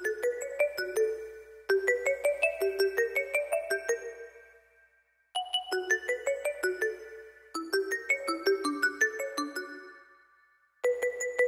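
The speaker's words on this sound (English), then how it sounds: "I used an ARP on the same MIDI, and I used a different Serum patch." Arpeggiated melody from a Serum synth patch, bright bell-like plucked notes rising in quick runs that ring and decay, phrases separated by short gaps, with no talking.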